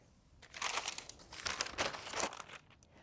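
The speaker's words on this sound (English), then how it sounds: "The kitty cat back here playing with the paper." A cat plays with paper indoors, making soft, close crinkling and rustling in a few quick bursts over a quiet background.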